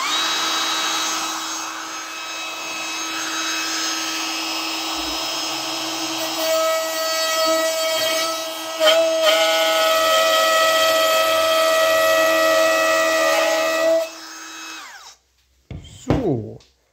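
Metabo FMV 18 LTX BL 8 cordless router with plunge base milling wood 5 mm deep with a 10 mm bit: a loud, sustained high-pitched whine with shifting cutting noise as it feeds, ending with spin-down and a few clatters.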